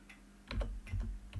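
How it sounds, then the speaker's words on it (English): Keystrokes on a computer keyboard, a short run of soft clicks and taps in irregular clusters, close and fairly quiet, with no voices. "I'm just typing so that you would be familiar."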